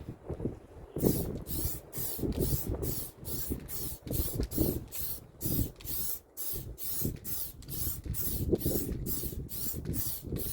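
Aerosol spray can with a trigger nozzle coating the back hatch of a 1996 Geo Tracker in thick rubberized paint, a close hissing spray sounding in rapid regular bursts throughout.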